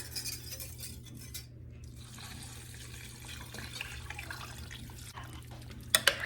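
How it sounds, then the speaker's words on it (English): Six cups of beef broth pour into a slow cooker holding barley for beef barley soup, a steady liquid splash and trickle running throughout, ending with two sharp utensil clinks near the end. "And then I'm going to put the 6 cups of beef broth."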